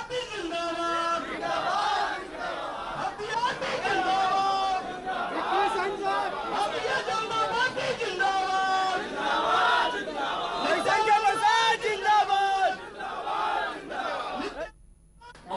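A large crowd of BJP workers welcomes Ravi Shankar Prasad at Patna airport, a loud mass of voices chanting and shouting slogans in rhythmic waves with constant chatter, close and dense before it suddenly cuts off near the end.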